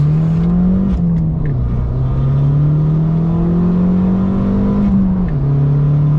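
A Fiat 500 Abarth stage 2 revs hard under full throttle, its engine note droning loud and close with steady pitch climbs broken by two brief gear-change dips.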